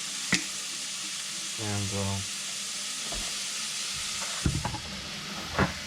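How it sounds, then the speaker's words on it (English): Sesame oil sizzling in a pan while a beef stir fry sauce is made, a steady close frying hiss running throughout with a few brief clanks and a short spoken word near the end. "So we'll just add a little bit of sesame oil"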